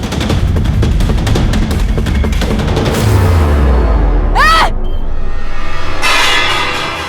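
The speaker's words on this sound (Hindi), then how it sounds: "अरे 10 रुपए के लिए कोई गोली चलाता है क्या?" A rapid burst of gunfire rattles loudly up close, followed by a deep boom, a ringing metallic tone and another sharp blast, all in a tense TV crime drama scene.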